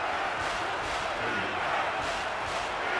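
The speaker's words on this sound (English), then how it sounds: "And this crowd is going absolutely crazy." Stadium crowd in the NCAA Football 14 video game roaring continuously, a dense and loud wash of cheering with surges.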